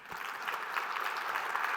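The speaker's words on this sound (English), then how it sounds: "So give yourself a round of applause." Steady applause from an audience at a keynote presentation, a dense wash of clapping holding at an even level throughout.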